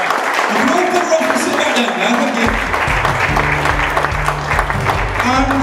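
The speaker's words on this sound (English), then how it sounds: "So can I have a please have a round of applause for our fantastic podcast crew?" Live audience applauding a podcast crew at a show with a bar, dense clapping throughout with low rhythmic music entering partway and continuing underneath.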